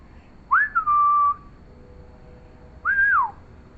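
A pet bird perched on an outdoor perch whistles two clear, close rising-and-falling notes, the first with a longer held tail, separated by a short pause.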